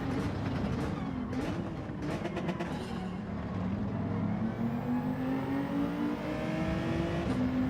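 A Volkswagen Scirocco race car engine in Gran Turismo 7, revving hard through several quick gear changes, then holding a sustained rising whine at high revs, close and loud.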